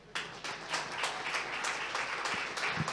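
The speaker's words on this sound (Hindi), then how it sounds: "ताली बजाने को दिल चाह रहे बजा दें" A church congregation claps in applause, a dense, steady patter of many hands lasting throughout, fairly close and moderately loud, with no talking over it.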